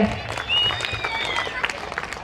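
Audience clapping at a temple fair for Shri Ishwara at a live stage event, a short burst of scattered applause mixed with crowd noise and a voice over a loudspeaker.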